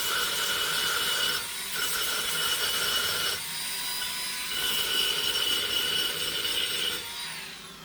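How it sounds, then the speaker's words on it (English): An old belt sander takes swarf off metal on a Range Rover bonnet catch part, with a loud continuous abrasive rasping whirr that dips briefly a few times as the piece is shifted, close by and without talk. "I'm just going to use the old belt sander"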